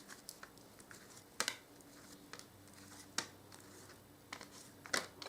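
Tarot cards being shuffled by hand in short, soft bursts of riffling and patting, close and quiet, spaced irregularly with pauses between.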